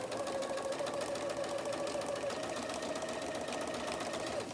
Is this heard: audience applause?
no